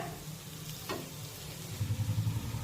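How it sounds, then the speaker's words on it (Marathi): A ground masala paste for drumstick curry sautés in a pan, giving a soft, steady sizzle close by with low stirring scrapes and no talk. "आता दोन मिनिटे हे वाटण मी चांगलं परतून घेतलेलं आहे"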